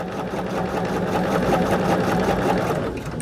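Sewing machine running steadily as it stitches a quarter-inch seam on a quilt block, a continuous close whirring motor with rapid needle rhythm and no talk.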